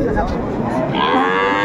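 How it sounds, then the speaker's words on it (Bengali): A cow moos loudly and close by at a livestock market in Ambari, Dinajpur, one sustained low call against the busy background murmur of the market crowd. "গাভী।"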